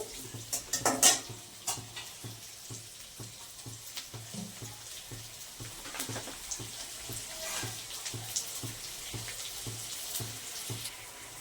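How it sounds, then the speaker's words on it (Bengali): Onions fry in a pan for chilli chicken, a quiet steady sizzle under rhythmic scraping and stirring strokes, with a few louder clatters near the start and no voices. "পেঁয়াজটা হালকা লাল লাল করে ভাজা হয়ে গেছে"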